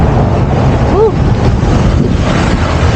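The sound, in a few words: wind blowing during bicycle ride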